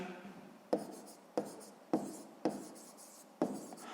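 Someone writing out a maths solution by hand, producing five sharp tapping strokes at roughly even intervals, each followed by brief scratching, close and quiet with no voices.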